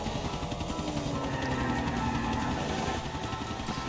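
A helicopter in GTA IV: The Ballad of Gay Tony holds a steady, loud rotor thrum and turbine whine throughout, close and continuous with no talk over it.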